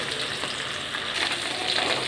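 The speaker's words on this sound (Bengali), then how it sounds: "কড়াতে তেল দিয়ে গরম হয়ে গেছে। এবার আমি মাছগুলোকে ছেড়ে দিচ্ছি। মাছগুলো ভেজে তুলে নেব ভালো করে।" Raikhor fish fry in hot oil in a wok with a loud, dense, unbroken sizzle and crackle that holds steady throughout, with no voices.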